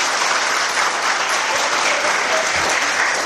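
Sustained applause from a large audience at a Jain religious discourse, steady and loud throughout without pauses.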